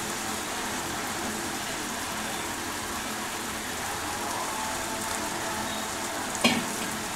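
Moth beans fry in a pan with a dense, continuous sizzle that sounds almost like steady rain, close and even, with one brief clink of stirring near the end and no voices.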